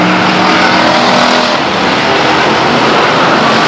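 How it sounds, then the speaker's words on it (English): Race cars roar around the track at Stockton 99 Speedway, their engines loud and close in a sustained, dense blare with no pause. "As the number 3 car does a pirouette off of turn 2 to end tonight's racing action"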